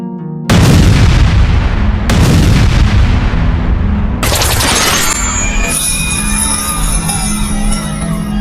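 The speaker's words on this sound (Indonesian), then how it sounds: "bom itu meledak." Bomb explosion in a dramatized film scene set at a crowded outdoor event: a sudden loud blast followed by further heavy booming bursts, then a ringing, crackling aftermath with distant crowd commotion.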